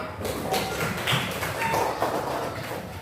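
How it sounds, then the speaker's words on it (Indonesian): A classroom of students claps together in sustained applause, a dense, fairly loud patter of many hands with slight swells in intensity across a few seconds. "tepuk tangan untuk kita semua"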